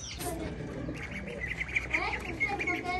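Budgies chirp and tweet continuously in a cage in a busy, close chorus, with bright repeated calls over a background murmur.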